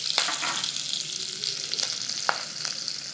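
Lentils and green chilies frying in hot oil for a drumstick curry tempering: a steady close sizzle with a few sharp pops and crackles scattered through, no talking.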